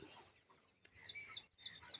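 Broiler chickens at a poultry farm cluck and chirp in a busy, overlapping chorus, fairly close and moderately loud, with brief lulls between bursts.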